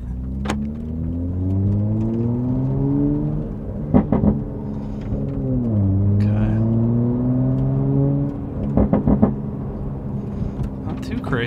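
A car with a maxed-out exhaust burble tune heard from inside the cockpit while driving: a loud rising engine drone between gear changes, punctuated by sharp clusters of crackling exhaust pops.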